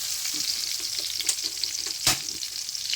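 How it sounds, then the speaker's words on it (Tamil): Garlic and curry leaves sauté in hot oil in a pan, giving a steady close sizzle with a few sharper crackles and the scrape of stirring, with no talking. "கருவேப்பிலை போட்டு நம்ம வெள்ளைப்பூட நல்லா நச்சுக்கணும், நல்லா வதக்கணும்."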